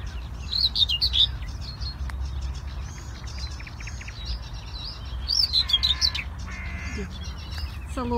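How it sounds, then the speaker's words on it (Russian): Small songbird, likely a nightingale, singing outdoors in the morning: bright chirping phrases in short bursts over steady low rumbling background noise, moderately near. "Соловушек поет."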